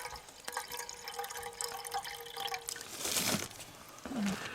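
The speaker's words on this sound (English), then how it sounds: "I'm going to be putting, as always, no more than an inch of water in there" Water from a bottle or bag is poured into a cooking pot at a cold winter mountain wild camp, a close trickling, gurgling stream with drips, followed by a brief clank of metal near the end.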